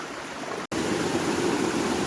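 A small waterfall spills at a dam in the Konkan countryside, a steady, close, full rushing of water with one very brief dropout early on.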